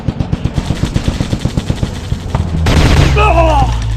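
Rapid automatic gunfire in the video game Commando, a loud, evenly spaced burst of shots, then a heavier rumbling blast with wavering tonal sounds that could be a voice.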